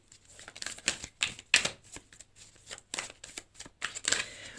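Tarot cards being shuffled by hand before one is drawn, a run of quick close riffling and flicking bursts in an uneven rhythm, no voices.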